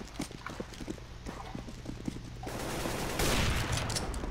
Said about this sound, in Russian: На шарте прям топают как лошади там.